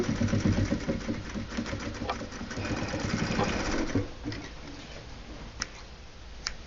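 A sewing machine stitches fabric in a rapid, steady mechanical whir close by, slowing toward the end, while pigeons coo softly in the background.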